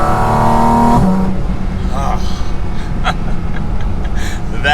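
A Porsche 718 Cayman GT4 RS Weissach engine drones loudly near the listener, its intakes loud as its pitch shifts with revving, with a person talking over it.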